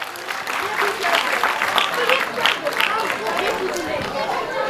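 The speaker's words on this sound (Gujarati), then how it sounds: "કૃષ્ણ આરએમસી માટે જોરદાર તાળીઓ થઈ જાય" An audience at a school dance programme breaks into loud, sustained clapping that fills the hall, mixed with crowd murmur and scattered voices.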